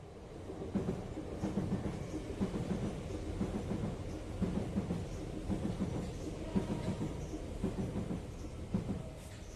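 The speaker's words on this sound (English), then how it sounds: "Train." A train passes near a river, heard from a boat beside a bridge. A steady, low rumbling clatter carries on without a break, fairly close, with no voices over it.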